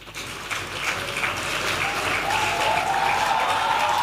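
An audience at a Ugandan government brand unveiling event applauds steadily, a dense, continuous patter of clapping that swells early and holds at a fairly even level for several seconds, with a faint tone rising through it near the end.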